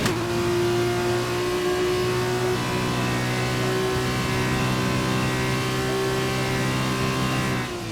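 The high-revving engine of a Formula 2 car on a qualifying lap in F1 2021 drones steadily and loudly for the whole clip. It shifts pitch slightly, then drops off briefly near the end.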